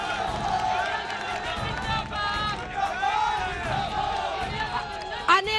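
Studio audience at a Hindi political talk show clapping and cheering to welcome a guest, a loud, continuous crowd roar with shouts and excited voices throughout.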